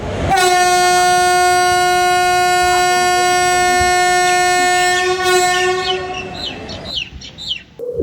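A Silambu Superfast Express train sounds a long, loud, steady multi-tone horn blast at departure, holding for about six seconds before tailing off into quieter rail rumble.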